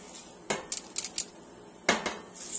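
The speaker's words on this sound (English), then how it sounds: "I'm actually going to use the spatula to help me get it all out," A spatula scrapes thick, sticky blondie batter made with nut butter out of a bowl, producing several short knocks and scrapes against the bowl in two clusters, close and clear with quiet gaps between.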